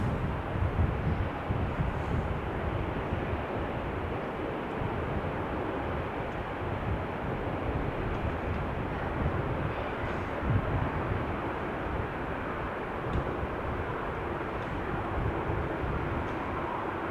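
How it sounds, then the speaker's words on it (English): An 18-year-old SAS Airbus A320 comes in from Stockholm to land at Amsterdam Schiphol on a showery day, a steady, dense roar of jet engines and wind rumbling evenly throughout with no voices. "We have an SAS A320 coming in from Stockholm next, flight 1553"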